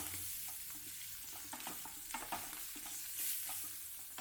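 Urad dal and green chillies frying in hot oil as a tempering, a steady low sizzle with occasional stirring scrapes, close and fairly quiet, no voices.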